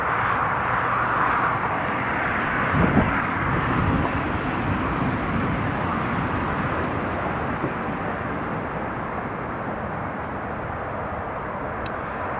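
Italian Air Force C-27J Spartan turboprop at Newcastle International Airport, a moderate, sustained engine drone with a slight swell early on, then a steady fainter rumble, no talking.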